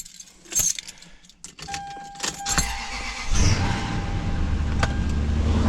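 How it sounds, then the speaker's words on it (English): A 20-year-old Lexus LX470 with 334,000 miles cold-starts up close: keys jangle and the ignition clicks, then a short crank and the engine catches into a loud, steady idle rumble. "So let's do a cold start and let's hear what it has to say."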